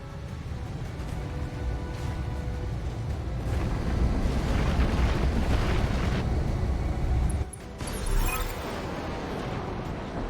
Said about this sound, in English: And that is called an ammo explosion.